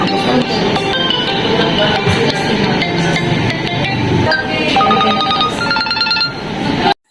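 A ringtone plays loudly from a Realme smartphone's built-in speaker, a continuous melodic tone sequence that fills the clip without pause before cutting off abruptly at the end.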